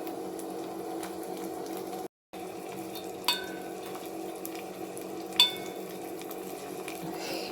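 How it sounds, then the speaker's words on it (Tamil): Onions and tomatoes sautéing in a pan for chicken biryani, a steady soft sizzle with a couple of light spoon scrapes against the pan, close and alone. "வெங்காயமும் தக்காளியும் வதங்கிருச்சு"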